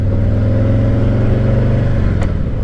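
A Harley-Davidson Tri Glide Ultra trike's engine pulls hard under acceleration. It gives a loud, close, steady rumble as the pitch climbs and then eases slightly.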